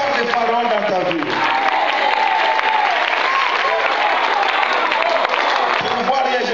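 A church congregation at a French-language worship service breaks into continuous loud applause and cheering, a dense unbroken roar of clapping and voices filling the whole stretch.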